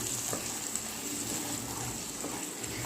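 Chicken fry with spice powder stirred in a hot pan, a steady close sizzle and frying hiss with faint scraping of the stirring, no talking.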